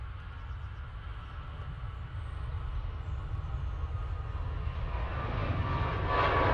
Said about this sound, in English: Aer Lingus A320-200. Now on the roll.